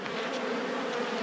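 A dense, continuous hum of honey bees fills the air around an apiary hive, with many insects droning near the listener and nobody speaking.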